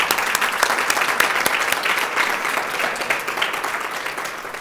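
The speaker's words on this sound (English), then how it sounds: "I think we clap for that." Steady, dense applause fills a lecture hall during a Women's Day lecture about Provo City, many hands clapping evenly throughout without pause.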